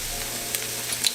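Ground meat for a vegan lasagna, seasoned with onion powder and herbs, sizzles steadily in a pan, a soft continuous hiss with a few faint crackles and pops near the end.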